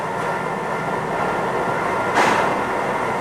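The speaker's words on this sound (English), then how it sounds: "put the grooves on the cymbal" A factory machine cuts grooves into a Paiste B15 alloy cymbal, producing a loud, steady grinding drone with a brief swell of brighter noise near the end, no voices.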